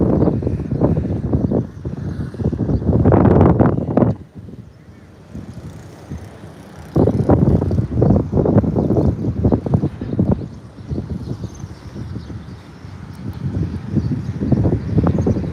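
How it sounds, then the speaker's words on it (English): Strong outdoor wind buffeting the microphone in Kampot, Cambodia, loud rumbling gusts that surge, drop briefly, then return and carry on to the end. "it's super breezy right here."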